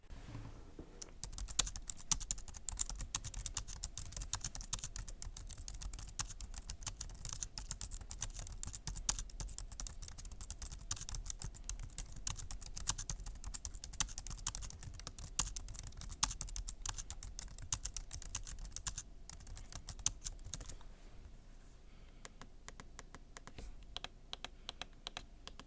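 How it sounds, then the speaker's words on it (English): Brisk typing on a low-profile Jelly Comb multi-device Bluetooth keyboard with touchpad, a fast stream of light, close key clicks with short pauses, easing into sparser taps near the end. "I have a clip of me just typing on it so you guys can hear how the keyboard sounds"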